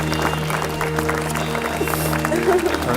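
Wedding guests applaud right after the couple's first kiss at the ceremony. Sustained, dense clapping continues beneath music and other sustained sounds, loud and close throughout.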